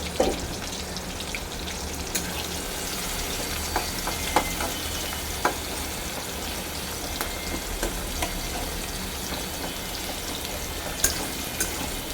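Chopped onion frying in a pan for a mutton and pointed gourd curry, a steady broad sizzle running throughout with occasional faint clicks and stirring ticks, no voices.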